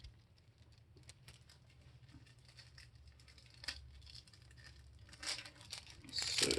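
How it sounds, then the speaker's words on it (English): A clean microfiber cloth is pulled from its packaging with faint crinkling and tearing, soft rustles that grow louder and busier toward the end, heard close up and alone. "Let's pull out our clean microfiber that also came in the packaging."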